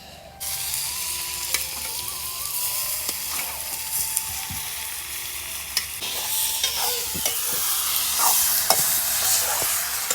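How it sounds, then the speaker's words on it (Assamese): Vegetables stir-fry in a little oil in a kadai for momo filling, sizzling and crackling steadily up close. Scraping and clinking from stirring punctuate the frying throughout. "কেৰাহীত অলপমান তেল দি লৈছোঁ এতিয়া শাক চব্জিখিনি মই ইয়াতে দি দিম"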